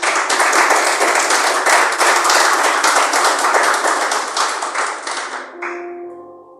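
A church congregation claps vigorously in a fast, steady rhythm for about five seconds, then the clapping breaks off and a few sustained tones ring on alone.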